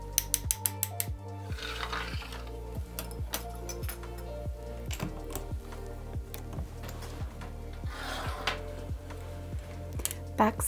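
A sewing machine stitches fabric seams with a 2.5 millimetre stitch length, a rapid, rhythmic mechanical clatter with short pauses between bursts, up close.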